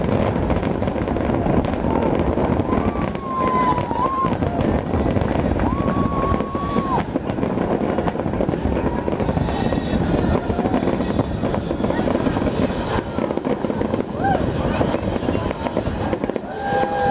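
A San Diego July 4th fireworks show goes off all at once after a technical glitch, a dense, continuous roar of blasts and crackles with wind noise on the microphone and whistling shells rising through it.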